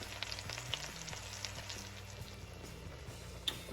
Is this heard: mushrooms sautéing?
yes